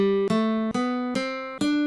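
D Dorian mode played note by note on a bright keyboard-like tone, four or five clean ascending notes struck at an even, unhurried pace, close and clear with no speech.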